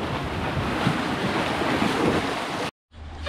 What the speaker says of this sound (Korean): 파도가 굉장히 세.